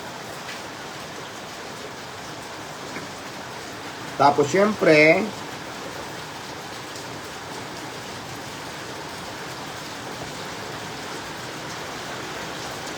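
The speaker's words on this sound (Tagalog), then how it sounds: "Ang lakas ng ulan, guys." Heavy rain pours down in a steady, dense hiss that fills the whole stretch, with a person talking briefly near the middle.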